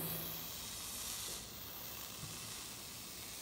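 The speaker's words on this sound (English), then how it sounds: "fizzing more. That means it's making hydrogen gas at a faster rate." Sodium metal fizzing and hissing as it reacts with water in a classroom alkali metal demonstration, a faint steady hiss that dips slightly partway through, with no talking.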